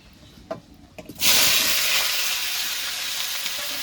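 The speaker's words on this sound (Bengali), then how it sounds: "এবার আলুগুলো তেলের মধ্যে দিয়ে দেবো" Potatoes dropped into hot oil in a wok burst into a loud, steady sizzle after a few small knocks, the frying hiss continuing close and unbroken.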